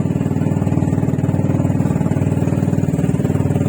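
A fishing boat's motor drones loudly with a fast rhythmic chug, running continuously at sea without letup until cutting off abruptly at the very end.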